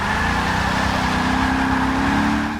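A Jaguar F-Type Project 7 engine in the Forza 6 racing game roars loud and steady, its pitch climbing smoothly as the car accelerates hard out of a corner, with no talking over it.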